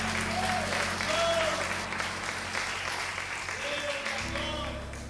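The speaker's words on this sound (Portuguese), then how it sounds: "dá um aplauso a Jesus" Church congregation applauding during an evening service, a full sustained burst of clapping at moderate distance with voices and a low musical hum underneath, easing slightly toward the end.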